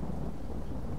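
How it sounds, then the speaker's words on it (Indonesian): Thunder cracks over a textile factory at night, a loud, dense rumble that fills the whole short moment with no break. "Suara petir yang sangat kuat membuat seluruh pabrik bergetar."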